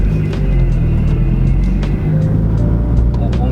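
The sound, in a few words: turbocharged car accelerating on a pass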